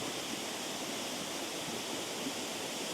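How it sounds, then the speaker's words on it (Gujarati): A waterfall pours in a steady, dense roar that fills the whole stretch with unbroken rushing noise and no voices. "ધોધ છે"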